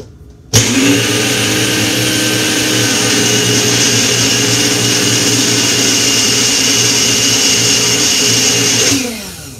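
A blender whirs loudly through a chocolate peanut butter milkshake, switching on abruptly, holding a steady high-pitched drone for about nine seconds, then winding down.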